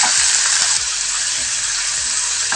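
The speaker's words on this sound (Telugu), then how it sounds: "ఇప్పుడైతే ఫస్ట్ పాలకూరని సన్నని మంట మీద ఫ్రై చేసుకుందాం" Spinach frying in oil over a low flame gives a steady, bright crackling sizzle that runs the whole stretch. Faint, soft clicks of stirring sit underneath it, and no voices come through.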